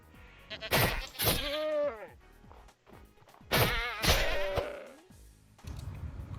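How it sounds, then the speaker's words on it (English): A goat in the Minecraft video game bleats in two loud, wavering cries with short gaps between them, and no one talks over it. "I find a goat and try to kill it to get its head to start off my head collection."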